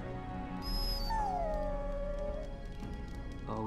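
A dog howls in a rising then falling wail that fades into a soft whimper, set against a steady music-like game background.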